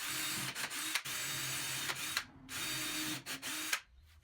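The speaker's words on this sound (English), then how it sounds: "drilled holes for the screws to fix the top down" In a workshop, a power drill bores screw holes in the underside of a new router table top, whirring in several short bursts with brief pauses between, close but fairly quiet.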